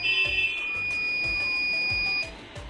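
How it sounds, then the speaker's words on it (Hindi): A Sukam hybrid solar inverter switching on gives one long, steady electronic beep of about two seconds, loud and close, with low mechanical thumps underneath. "लॉन्ग बीप आएगा, देखिए"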